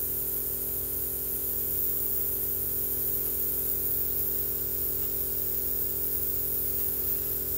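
An aerosol spray can coats a Warhammer 40K miniature during painting, giving a steady, continuous hiss that runs unbroken and fairly close for the whole stretch, with a low background hum beneath it.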